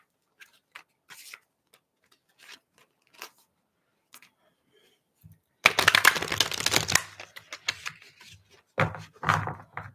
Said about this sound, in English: I'm going to do an ancestral card pull